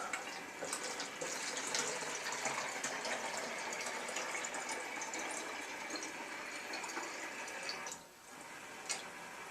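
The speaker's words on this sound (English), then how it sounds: "Fill it with water up to the rim." Tap water gushes steadily into a small fertilizer container for a planted aquarium, a constant splashing fill that briefly dips near the end as it reaches the rim.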